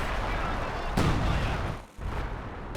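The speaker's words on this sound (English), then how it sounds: "Got some major artillery coming in." Artillery fire in a World War II strategy game, with heavy booming impacts over a rumbling battlefield and a sharp blast landing partway through, fairly loud and dense throughout.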